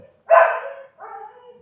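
Two dogs nearby bark at home, one loud bark followed by a softer, shorter second bark, with no talking over them.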